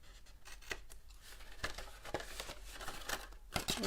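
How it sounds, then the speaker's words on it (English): Scissors snip through the flaps of a paper Valentine's Day treat box, giving a few brief, close, crisp cuts with light paper crinkling in a quiet room. "Don't cut into the box part, only cut on the flaps."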